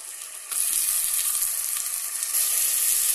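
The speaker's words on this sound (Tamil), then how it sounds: "இப்போ நம்ம கட் பண்ணி வச்சிருக்கிற தக்காளியை போடலாம்" Chopped tomatoes land in a pan of fried onions: a quieter sizzle jumps at once into a loud, dense, hissing fry that carries steadily to the end.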